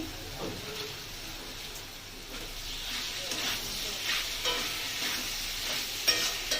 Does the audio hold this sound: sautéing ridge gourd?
yes